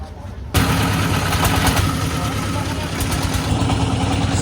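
Boat engines at the Bholaganj ghat in Sylhet, Bangladesh, start up abruptly and run loudly and steadily as the boats head out toward Sada Pathor.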